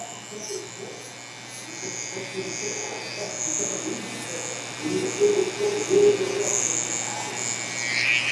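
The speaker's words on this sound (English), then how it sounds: "So with the liner, we're gonna take our trimmers." Electric hair trimmer buzzing steadily while cutting a taper fade, a close, continuous hum running through the whole clip under light background sounds.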